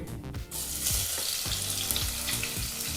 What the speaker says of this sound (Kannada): ಈರುಳ್ಳಿನ ಚೆನ್ನಾಗಿ ಫ್ರೈ ಮಾಡಬೇಕು